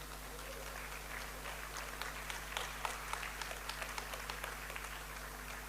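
Audience applause at a global forum gathering, a steady wash of many hands clapping in a large room, continuous and moderately loud throughout with no speech over it.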